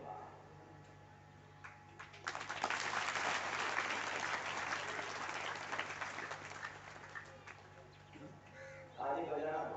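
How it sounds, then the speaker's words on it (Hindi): Audience clapping at a bhajan gathering, a dense burst of applause that swells after a few scattered claps and holds for several seconds, then fades as a voice speaks over it. "ताली बजाना तो ऐसी बात,"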